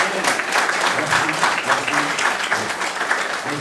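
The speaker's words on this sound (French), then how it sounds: "Et nous voulons encore remercier Pasteur Matt et Pasteur Fiti avec un applaudissement." Church congregation applauding at an anniversary worship service, a steady wash of many hands clapping throughout, dense and fairly loud, with some voices mixed in.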